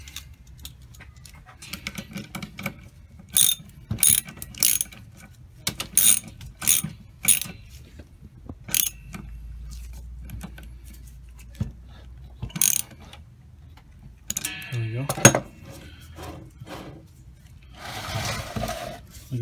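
Ratchet wrench tightening a bolt on a custom steering shaft for a Nissan 240SX S13, heard as several short bursts of clicking spaced across the clip with pauses, quiet shop background between them.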